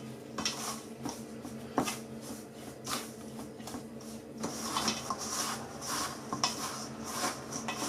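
Apple pie dough mixed with a spoon in a bowl, a close series of scraping, knocking strokes of the spoon against the dish at an uneven rhythm, with no voices.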